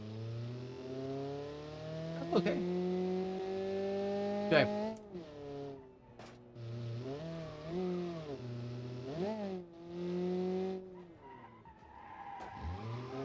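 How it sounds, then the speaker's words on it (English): A 1968 sports car's four-cylinder engine idling and revving in short rising and falling pulls, close and clear, with a person briefly talking over it. "It sounds like a... What engine is this? A 4-cylinder?"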